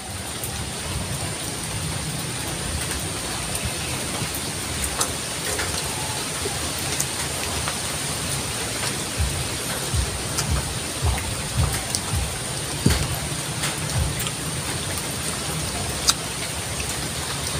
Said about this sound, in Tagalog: Malakas naman yung ulan.